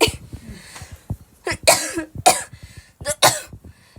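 A string of harsh, close coughs comes in repeated bursts, several hacking fits spaced a second or so apart with ragged breaths between.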